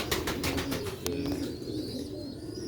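Sialkoti black-faced pigeons coo nearby in soft, low, throaty calls, with some fluttering and clicking sounds early on.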